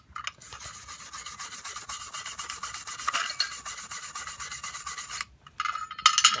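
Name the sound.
scraping aluminum oxide off heated aluminum for brazing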